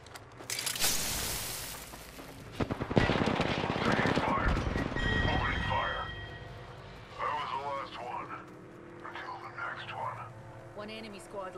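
Rapid automatic gunfire in Apex Legends, loud crackling bursts over the first few seconds, then scattered quieter shots and clatter with a game voice speaking in between.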